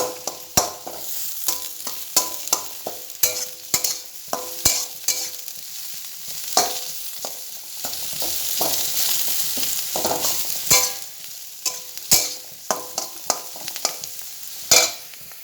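Chow mein noodles sizzle in a hot pan while a utensil scrapes and clacks against the metal in repeated stirring strokes, close and irregular.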